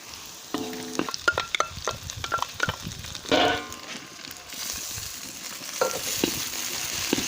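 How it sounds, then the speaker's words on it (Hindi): Onion frying and being stirred in ghee in a pan, with a steady close sizzle and repeated scraping clinks of a spoon against the pan, no talk. "इसे हम 1 मिनट के लिए चम्मच चलाकर भूनेंगे।"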